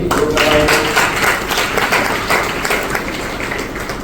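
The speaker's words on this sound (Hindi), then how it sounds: "तो उनके लिए जोरदार ताली थी" Loud, dense applause from a seated crowd at a business seminar, continuous clapping throughout that gradually eases slightly toward the end.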